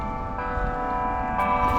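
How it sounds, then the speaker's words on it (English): Bells ring at a public golf course, a sustained metallic tone with strong harmonic partials and a fresh strike near the end, fairly soft over low outdoor rumble. "Pretty cool with the bells"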